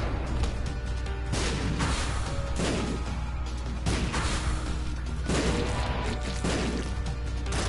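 Heavy booming explosions erupt repeatedly in The Binding of Isaac, several big crashing blasts spaced a second or two apart over a dense, loud game soundscape with no voice.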